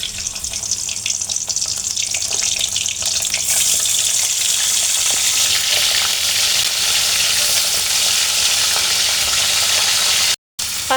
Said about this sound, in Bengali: দিয়েছি মাছের মাথাগুলো, আমি এখন ভেজে নেব হালকা করে একটু।